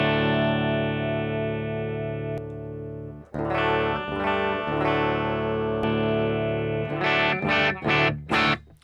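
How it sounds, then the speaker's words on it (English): Electric guitar played through an amp simulator plug-in with a matched cabinet rings out as a long sustained distorted chord, then choppy strummed chords and sharp muted stabs, loud and close. "So sort of sounds like a guitar amp, right?"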